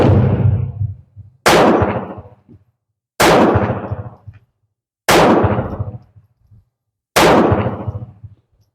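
A surplus .32 caliber CZ70 pistol fires five loud, sharp shots spaced about two seconds apart, each with a short echoing tail fading into silence.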